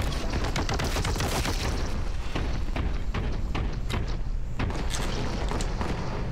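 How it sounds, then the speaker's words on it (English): Gunfire in the shooter game Boltgun: dense, rapid volleys of shots and heavy thuds crowd together without pause, loud and close throughout. "someone's still shooting."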